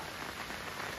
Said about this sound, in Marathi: स्वर्गापेक्षा आज कोकणात जास्त पाऊस पडलेला आहे